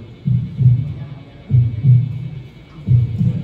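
A slow, deep heartbeat, likely the transplanted heart of a donor mother, thuds in three paired low throbs about every 1.3 seconds, muffled and steady with no voices.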